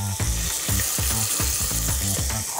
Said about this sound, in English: then the leek, then we're just going to gently saute that